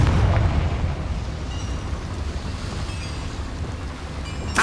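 A Confringo fire spell bursts in the Hogwarts Legacy video game with a loud, close boom at the start, a rumbling tail and then a second sharp blast right at the end.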